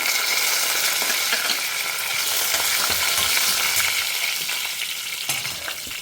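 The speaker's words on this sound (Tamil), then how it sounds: "கடுகு பொரிஞ்செடுத்தோ, பருப்பெல்லாம் செவக்க ஆரம்பிச்சிருக்கு." Mustard seeds and lentils frying in hot oil for a Tamil garlic thokku dish, a steady dense crackle and sizzle, close and loud throughout with no voices.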